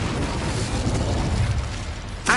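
A fiery spell blast from Hogwarts Legacy, the Incendio fire charm, roars as a sustained loud rumbling whoosh for a couple of seconds, ending with a sharper burst right at the close.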